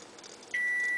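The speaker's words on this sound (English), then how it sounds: "So you'll hear the timer go off any second now." Halfway through a quiet kitchen moment, a timer goes off with a single continuous electronic beep that starts abruptly and holds at a steady, piercing pitch to the end.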